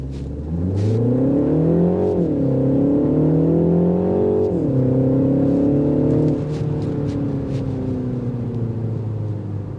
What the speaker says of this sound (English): Now we're going to get that 0 to 60.